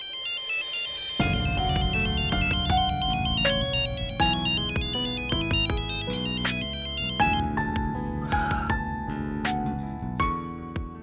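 A mobile phone ringtone plays a melodic electronic tune that repeats for the whole stretch and keeps going unanswered, loud and close with no one talking.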